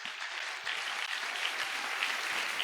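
A church congregation applauding together, steady dense clapping from many hands that swells slightly and continues throughout, fairly close, with no talk over it.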